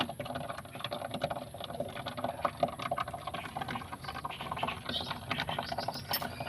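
Water boiling after a machine is switched off, a continuous faint bubbling and hissing with small irregular pops, heard on its own without talk.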